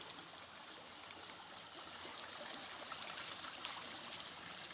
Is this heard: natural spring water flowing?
yes